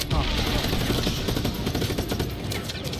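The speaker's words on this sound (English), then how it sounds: "Who's shooting me?" Continuous dense gunfire in the Just Cause 3 video game during a base attack, rapid overlapping shots and booms filling the scene at steady loudness, with a voice speaking over it.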